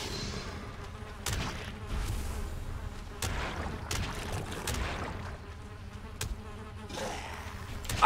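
Fly buzzing around a pile of loot in the video game Valheim, a steady insect drone that continues through the clip with game sounds breaking in now and then.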